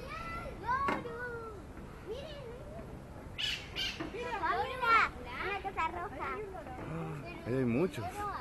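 Birds in a zoo aviary give repeated squawking, chirping calls near and far, mixed with children's voices and adults talking nearby.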